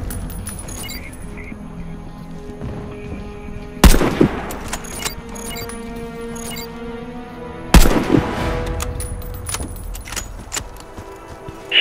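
Sniper rifle fire at targets in the shooter game Warface: two loud, sharp shots about four seconds apart, each with a short tail, over a steady bed of game ambience and faint metallic rattling.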